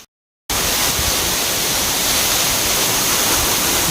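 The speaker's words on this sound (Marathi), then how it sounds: "धोधो कोसळणारा हा धबधबा" A waterfall pours down in the Sahyadri hills during the monsoon, a loud, constant, roaring rush that starts abruptly after a moment of silence and holds steady.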